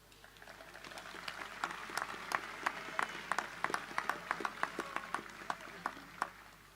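An audience at a school matric prize giving claps, with scattered hand claps rising into a moderate round of applause that holds for several seconds in a hall.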